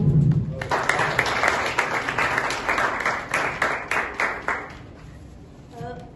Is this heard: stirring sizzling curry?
no